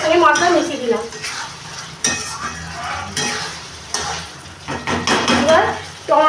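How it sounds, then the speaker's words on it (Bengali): A spoon scrapes and clatters in a pan as eggs are stirred into a spicy masala, with repeated metallic knocks and a light sizzle underneath, close and fairly loud, no voices. "এবার ডিমগুলোকে আস্তে আস্তে এগুলোকে মিশিয়ে দিচ্ছি, ডিমের সঙ্গে মশলা মিশিয়ে দিলাম"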